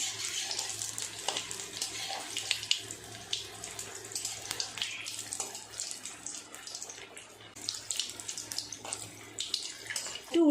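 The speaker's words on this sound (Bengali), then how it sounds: "এই তেলে দিয়ে দিলাম বড়ার এই পাশটা হয়ে গেছে উল্টে অপর পিঠটাও ভাজা করে নেব" Lote fish chops sizzling and bubbling in hot oil, a steady close hiss with crackling bursts running throughout, no voices.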